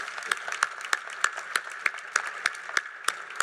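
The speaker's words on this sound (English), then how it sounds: "please join me in applauding these working men and women of America." An audience at a submarine christening applauds faintly and at a distance, with sharp claps standing out in a fairly even rhythm over a soft bed of crowd clapping.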